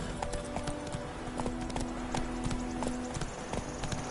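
Hooves of Roach, Geralt's horse in The Witcher game, clip-clop in a steady galloping rhythm, close and moderately loud over a low, busy background with a brief whinny-like tone.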